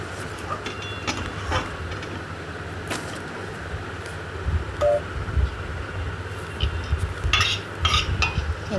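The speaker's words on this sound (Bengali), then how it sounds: "এবার একটু গরম মশলাটা মিশিয়ে নেব।" A spoon scrapes and stirs banana flower (mocha) cooked with garam masala in a pan, with intermittent clinks and soft scraping over a low background rumble, growing busier toward the end.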